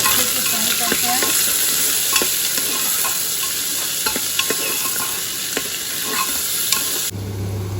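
Onions and green chillies sizzle in oil in a pan while a spatula scrapes and stirs in irregular strokes, loud and near, ending in an abrupt cut with no voices heard.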